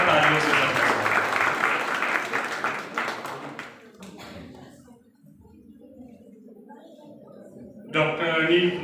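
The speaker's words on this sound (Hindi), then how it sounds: "आप सभी लोगों से अनुरोध है कि जोरदार तालियों से बधाई।" An audience at a university geography department's farewell and honour ceremony gives a loud, dense round of clapping that fades after about four seconds, after which a speaker's voice takes over.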